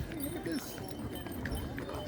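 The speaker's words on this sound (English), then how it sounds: "oh hey, horse carriage ride" Hooves of a horse pulling a tourist carriage clip-clop in an uneven, moderately distant rhythm along a street, with people talking over them.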